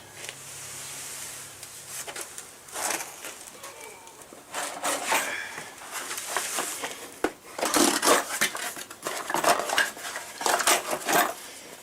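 New brake pads for a Chevy Blazer are handled, producing repeated light metallic clinks, rattles and scrapes in irregular bursts, fairly close and continuing for several seconds.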